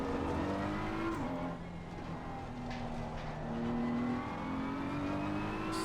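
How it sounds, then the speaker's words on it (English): A BMW M4 GT3 race car engine in a racing video game drones steadily, pitch climbing and dropping as gears shift up and down, heard from inside the car at moderate volume. "You can really hear like the upshifts and the downshifts."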